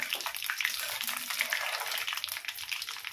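Mustard seeds and three dried red chillies hit hot oil for an aloo bhujiya, a steady close sizzle with faint crackles throughout, no voice over it.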